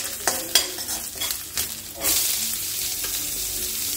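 Oil with chilli, ginger and garlic sizzling and being stirred in a pan for egg momo filling, a steady close frying hiss with scraping stir strokes, no talk.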